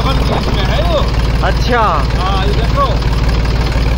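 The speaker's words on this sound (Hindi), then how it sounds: "हाँ पीटीओ चल रही है और ट्रैक्टर रुका हुआ" A 35 HP tractor stands still with its PTO engaged, driving a 7-foot rotavator; the engine idles in a steady, loud low drone throughout while people talk over it nearby.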